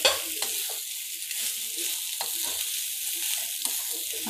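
Leftover cooked rice being stir-fried in a pan for masala rice, a steady sizzle broken by frequent scraping and knocking of a spatula turning it over.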